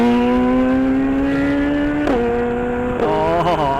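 A superbike engine, among a Hayabusa, ZX-10R and Z900 on a village ride, holds a steady loud drone with two quick revs and pitch shifts near the end, close and sustained.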